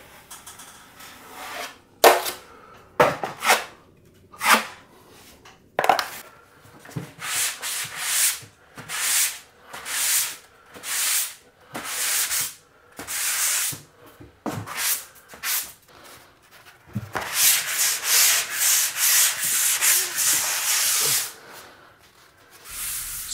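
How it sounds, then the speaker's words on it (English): Pole sander scraping a textured popcorn ceiling, a rough rasping rub repeated in strokes of varying length, close and steady, ending in a longer continuous scrape. "So look who's finally getting used to using the pole sander."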